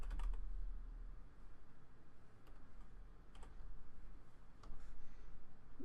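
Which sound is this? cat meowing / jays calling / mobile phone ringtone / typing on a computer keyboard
typing on a computer keyboard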